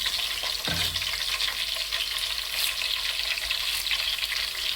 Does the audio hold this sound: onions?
yes